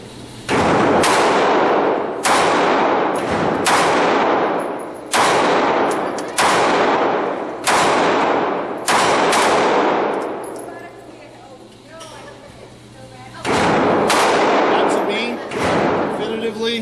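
Loud, sharp pistol shots crack one after another at irregular intervals at an indoor shooting range, echoing off close walls, with a short pause before a final cluster of shots.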